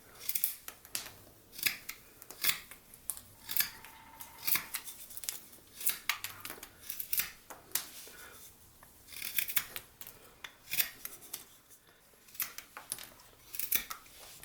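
A knife whittles a rock-shaped bud vase with forceful power cuts, producing steady rhythmic scraping and shaving strokes, close and fairly crisp, with no talking.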